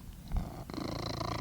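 Cat purring close by in a workshop, a steady rhythmic low rumble with a brief louder bump near the start, then an even, continuous purr with no talking.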